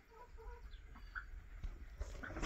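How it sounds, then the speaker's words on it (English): Chickens cluck softly nearby in a backyard flock, a few short low clucks with faint scuffling in a quiet setting. "Another chicken."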